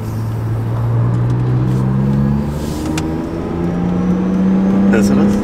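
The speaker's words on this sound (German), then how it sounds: "Das ist beim Kompressor schon geil, wenn man echt so ein bisschen Gas gibt und den Kompressor hört" A supercharged car engine revs up under throttle, its rising whine and drone steady and close throughout, with people talking over it.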